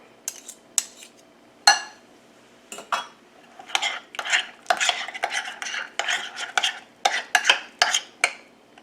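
A spoon scrapes and taps as creamy deviled egg filling is scooped and pressed into halved egg whites, a close series of irregular clinks and soft dabs with brief pauses between scoops.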